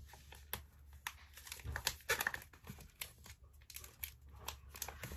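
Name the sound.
packing tape applied to seal a shipping box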